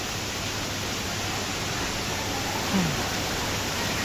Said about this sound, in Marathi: बाकी छोटे छोटे धबधबे.